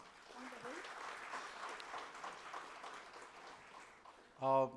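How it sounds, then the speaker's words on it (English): An indoor audience at an inauguration event claps steadily for the organizing team, a soft diffuse patter of many hands, heard faintly from a distance with a voice starting to speak at the very end. "So huge applause for the organizing team."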